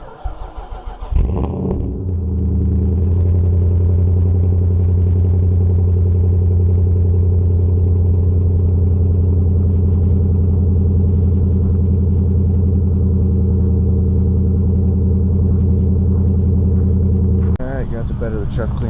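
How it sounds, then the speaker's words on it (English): A pickup truck's engine cold-starts in snow with a brief cranking burst, then settles into a loud, steady, deep idle rumble that holds for about fifteen seconds before other noise returns. "of course we're going to do a cold start"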